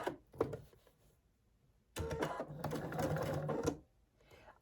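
A sewing machine stitching a Christmas tree wall hanging runs in two bursts, a brief whir and then a longer steady run of about two seconds, close and clear.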